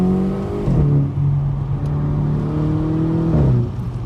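Seat Ibiza Cupra 1.4 supercharged 180 hp engine accelerating from inside the car, a loud droning rev that climbs, drops briefly at a gear change, then climbs again with supercharger whine.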